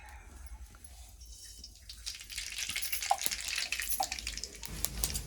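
Mustard seeds hit hot oil in a pan over a wood-fired stove and break into a crackling sizzle that rises and keeps spitting and popping, close and fairly faint.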